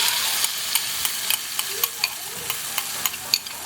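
Chicken being stirred through marinade in a hot pan for Filipino chicken BBQ, a steady run of close scraping strokes and spoon taps over a soft, continuous sizzle.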